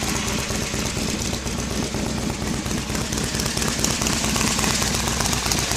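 A 2008 Harley Davidson motorcycle engine fitted with S&S 585 Easy Start cams runs steadily nearby, a loud, even, lumpy idle with rapid pulsing throughout and no talking.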